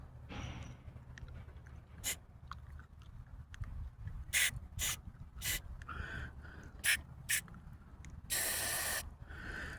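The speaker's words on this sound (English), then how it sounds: "It's best to spray inside of those holes" Spray paint hisses onto a Huffy bicycle swing seat frame in short, sharp bursts, ending in one longer continuous spray, with faint handling noises between them.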